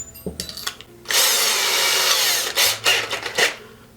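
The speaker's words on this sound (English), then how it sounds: "we're going to be drilling using those 3/64, which is a very small hole" A power drill boring a small 3/64-inch hole whirs in a short burst of about a second and a half, then a few brief bursts follow, close and loud.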